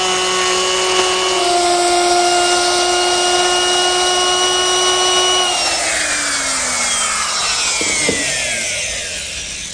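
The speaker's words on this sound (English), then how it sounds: "to make the grooves in the rails and the post for this planter, I'm using the same techniques as I used earlier, except that I've switched to a 1/2 inch bit" A router fitted with a 1/2 inch bit cuts grooves into wooden planter rails, producing a loud, close, steady high whine with strong harmonics that drops in pitch as the cut loads up and then winds down.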